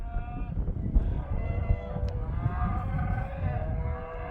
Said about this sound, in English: I'm not following a herd of cattle down the road